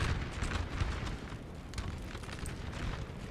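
Austrian artillery fire across a Napoleon Total War battlefield at Aspern-Essling, 1809, heard as a continuous distant rumble of booming cannon and battle din, with no voices.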